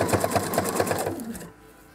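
A sewing machine stitches a sequined fabric skirt with a quick run of rhythmic mechanical clatter that stops abruptly, leaving near silence.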